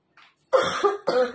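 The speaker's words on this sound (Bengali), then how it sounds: "আমার এবার কাশি শুরু হয়েছে" A short series of harsh coughs, three bursts close up after a faint breath, with no talking.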